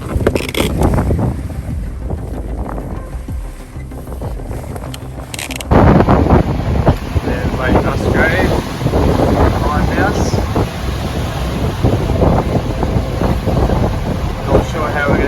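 Strong 25 to 30 knot wind blowing across a sailboat, roaring steadily and loudly against the microphone throughout, with water noise around the hull and people talking over it.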